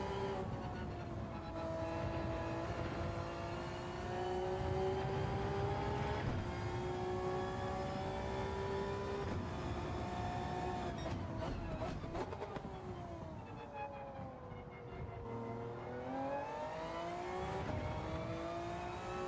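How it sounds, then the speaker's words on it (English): A car engine in the Gran Turismo 7 racing game is held at the rev limit, a loud sustained high-pitched drone with a bouncing limiter and shifts in pitch, steady throughout with no talk. "No, I've hit the rev limit."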